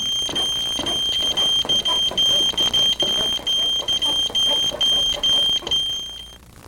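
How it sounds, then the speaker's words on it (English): An ESD ground monitor alarm beeps loudly at a high pitch in rapid, regular pulses for several seconds, close by, then cuts off. "You'll hear the monitor alarm"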